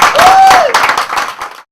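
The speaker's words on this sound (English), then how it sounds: "Again, another round of applause." At a charity dinner in a Bromley restaurant, an audience breaks into a short, loud burst of clapping and cheering with a whistle, fading out quickly.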